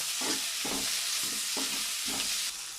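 Onions, tomatoes and curry leaves sauté in a pan, giving a continuous sizzle broken by about four rhythmic bursts of stirring scrapes, close and fairly loud, with no voices.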